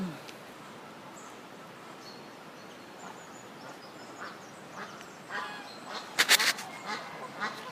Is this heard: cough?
no